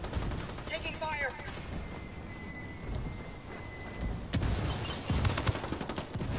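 Video game gunfire crackles in rapid bursts with dense overlapping shots, a faint tone in the middle, and heavier volleys returning toward the end.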